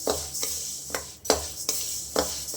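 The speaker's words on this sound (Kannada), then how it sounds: "ಇದರಲ್ಲಿ ತೇವಾಂಶ ಇರೋವರೆಗೂ ನಾವು ಸ್ವಲ್ಪ ಚೆನ್ನಾಗಿ ಹುರ್ಕೋಬೇಕು" Health powder being roasted in a pan, stirred over low heat with a spoon or spatula, giving a run of dry scraping strokes at a steady, unhurried rhythm, fairly close, with no voices.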